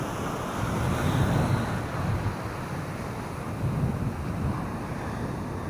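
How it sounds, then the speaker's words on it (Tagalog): Steady rushing ocean surf and gusting wind buffet the microphone continuously on a fishing trip, a broad roaring wash with gentle swells in loudness and no voices. "Lakas ng current to. Tsaka yung alon."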